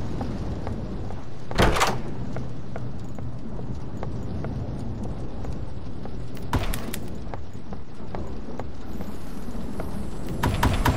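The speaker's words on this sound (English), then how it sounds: "Door noise." Doors opening in the Roblox game Doors, heard as two sharp, loud thuds several seconds apart over a constant low rumble of game ambience, with no talking.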